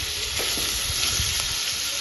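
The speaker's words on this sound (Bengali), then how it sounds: "এখানে হচ্ছে কুমড়ো ভাজা, একদম কচি কুমড়ো" Slices of tender young pumpkin fry in a pan with a steady, dense hiss of sizzling oil, close and even throughout the short stretch, with no talking.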